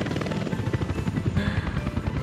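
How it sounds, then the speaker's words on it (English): Helicopters in the Workers and Resources: Soviet Republic game fly close by, their rotors giving a fast, pulsing chop with a buzzing whine layered above it, steady and fairly loud. "Helicopters, baby."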